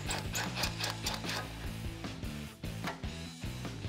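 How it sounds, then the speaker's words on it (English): A 13 mm socket ratchet loosens the exhaust muffler clamp on a 2011-2014 Mustang GT, a close, steady series of rasping clicks in a repeating back-and-forth rhythm throughout. "We're gonna loosen up the clamp holding on our factory muffler to the overaxle pipe."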